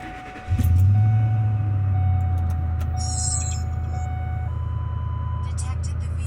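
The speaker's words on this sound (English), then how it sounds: "I'm going to start the vehicle." A vehicle engine cranks and catches, then settles into a steady, loud idle rumble that runs to the end, with a faint electronic tone and brief clicks over it.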